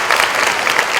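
Audience applause at a university meet-and-greet event, a dense, steady wash of many hands clapping, loud and close throughout the short stretch.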